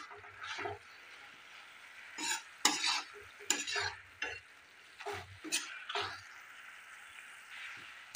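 A spoon stirs a thickening coconut mixture in a pan over a low gas flame, giving quiet, intermittent scraping strokes with faint sizzling between them.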